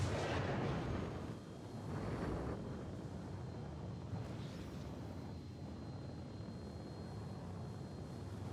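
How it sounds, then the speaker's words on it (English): Missiles launching from an aircraft in a flight combat video game, a heavy roaring rush with booming bursts riding over continuous engine drone, loud at first then settling into a steady rumble. "Is you firing missiles, Vinny?"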